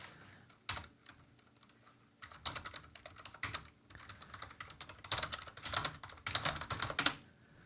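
Rapid bursts of keystrokes on a computer keyboard clatter in uneven flurries, pausing briefly between runs before picking up again at close range.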